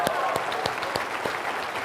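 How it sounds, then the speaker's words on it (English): An audience claps in steady, moderately loud applause that carries on evenly for the whole stretch, with individual hand claps standing out in the crowd. "give her a big round of applause"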